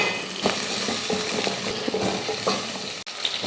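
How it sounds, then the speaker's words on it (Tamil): Small onions sautéing in oil in a pan for a drumstick sambar, a steady crackling sizzle with soft stirring scrapes throughout, close and fairly loud with no one speaking. "வெங்காயம் வந்து நல்லா வதங்கட்டும்."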